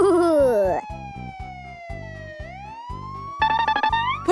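A cartoonish police siren wails up and down over a bouncy, rhythmic musical beat in a children's cartoon, loud and close.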